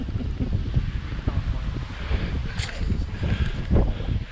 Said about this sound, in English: So it's a little windy and rainy here in Santiago